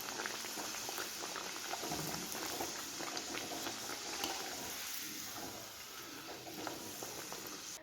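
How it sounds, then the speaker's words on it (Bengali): Pea-stuffed matar kachori frying in hot oil, a continuous bubbling sizzle with scattered crackles and pops, close but fairly quiet, with no speech. "তেল গরম হয়ে গেছে আর এখানে বেলাও কমপ্লিট। এবার একটা একটা করে ভাজবো।"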